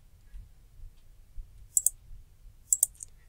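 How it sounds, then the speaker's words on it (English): Computer mouse clicks sound in two quick double pairs, crisp and close, over a faint low hum with no talking. "click on your select, and once you click one, you're going to see this come up, and then click multi-select"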